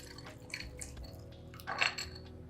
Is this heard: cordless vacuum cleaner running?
no